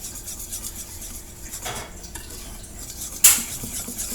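A utensil scrapes and clinks against a bowl while puto batter thinned with water is stirred, a soft steady rasp ending in a sharp clatter.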